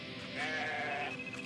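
A single sheep bleats in the video game Grow Home, a clear, wavering bleat up close, with no talking over it.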